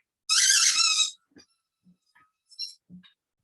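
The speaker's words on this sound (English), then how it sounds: "You can see Luna has found her squeaky ball." A dog's squeaky ball toy lets out one loud, sustained high squeal near the start, followed by a few faint short squeaks and soft clicks in an otherwise quiet room.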